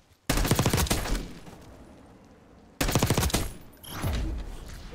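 Gunfire in the Black Ops 6 video game: two loud bursts of rapid automatic shots, the first fading into a ringing tail before the second burst, close and dominant.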